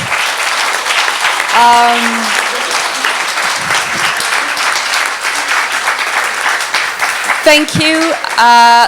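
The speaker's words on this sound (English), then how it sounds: "a warm thank you to applause for our poetesses" An audience at the Hellenic Centre in London applauds Greek and British women poets after an evening reading, sustained clapping throughout, with a few brief voices breaking through near the start and end.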